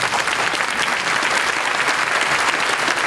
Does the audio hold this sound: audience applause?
yes